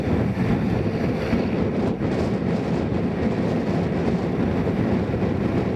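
Strong wind gusting across a Tokoroa airfield during a cross-wind Cessna 180 landing, a loud constant roar buffeting the microphone with no speech.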